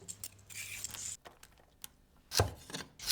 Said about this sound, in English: Now I'm just going to grab 2 carrots and give them a quick peel